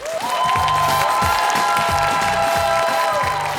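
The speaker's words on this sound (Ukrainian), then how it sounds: "Ваші оплески" A studio audience on a Ukrainian TV show applauds and cheers loudly and continuously, with dense clapping, shouts and rhythmic music underneath throughout.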